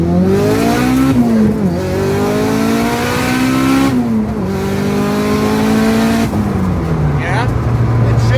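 Race car engine revving hard through a 1-2 gearshift after its shifting was adjusted, pitch climbing then dropping at each change, loud and continuous with no pause.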